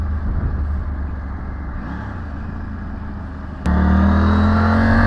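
Motorcycle with a quickshifter accelerating hard, ridden in winter; a steady engine drone steps up abruptly into a louder, higher rising rev partway through, close and continuous with no talk.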